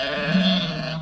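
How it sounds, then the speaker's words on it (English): A shaggy sheep on a nature reserve gives a single short, wavering bleat close by, heard alone outdoors against quiet background. "There are some sheep on the local nature reserve."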